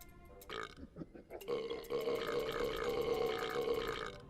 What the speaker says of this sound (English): Why does it belch?